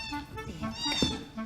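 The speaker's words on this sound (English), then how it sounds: "And then there's the kittens." Kittens from unwanted litters at a South African animal charity meow in short, high repeated cries, several overlapping over a second and a half, close by, with a voice talking underneath.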